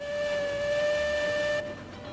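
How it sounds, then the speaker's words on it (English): A steam locomotive whistle in the train simulation game Railroads Online sounds one long, loud, steady tone with a clear pitch for about a second and a half, then cuts off abruptly into a softer hiss. "Whistle."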